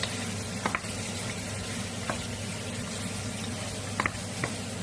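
Meat stirred with smoked red paprika in a pot for Transcarpathian bograch: a steady, low sizzle with a few soft scrapes and clinks of the spoon against the pot.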